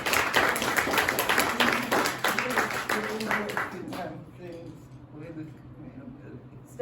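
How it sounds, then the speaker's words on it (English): Audience at a community Jewish Home gathering applauds Dolly, a lively burst of rapid clapping that thins and fades out as talking resumes. "Let's give Dolly a round of applause."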